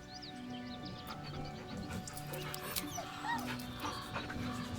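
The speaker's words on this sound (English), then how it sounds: "The dog whimpers nervously" A dog whimpers and whines softly in a Baldur's Gate III scene, thin high cries rising and falling over a steady game ambience with low music.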